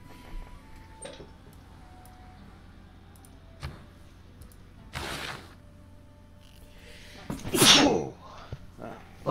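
A single loud, close sneeze bursts out near the end, preceded by quieter clicks and thumps over a low hum.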